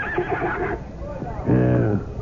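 A horse, the steed Bucephalus, gives a loud, close whinny near the end, preceded by scattered hoof clops and someone talking over a busy background.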